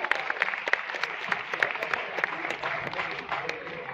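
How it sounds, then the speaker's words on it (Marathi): An audience at a school annual function claps steadily, a dense patter of many hands that continues for several seconds, moderately loud, with a few voices audible in the crowd. "चला जोरदार टाळ्या वाजूया त्यांच्यासाठी"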